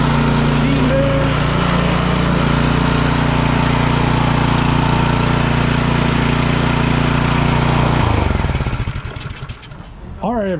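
Cub Cadet snowblower engine running after a carburetor rebuild, a loud steady close-up putter that drops away near the end, followed by brief voice sounds.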